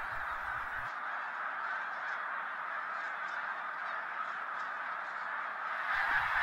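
A flock of snow geese, white adults with black wingtips mixed with darker blue geese, keeps up a steady, dense chorus of honking calls at moderate distance, continuous and overlapping without a break.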